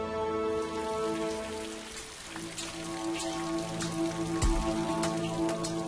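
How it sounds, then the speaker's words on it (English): Rain falling in Puri in the days before the Rath Yatra festival: a continuous hiss of drops on surfaces, moderately loud, beneath sustained droning musical tones, with no speech. "The blazing heat has given way to rain."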